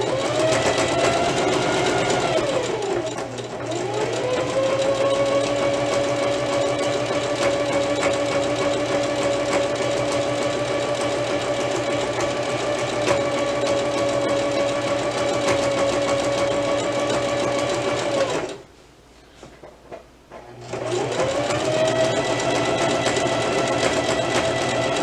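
A Viking sewing machine that keeps breaking thread stitches in a long steady whirring run, stopping for about two seconds before starting up again, close and with no talking.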